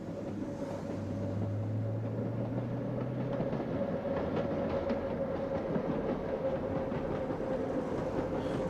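A Petit Train Jaune meter-gauge electric train, running on an 850-volt DC line with rolling stock dating back to 1908, rumbles steadily along the track with a constant loud roar, a low hum over the first seconds and faint rhythmic clatter.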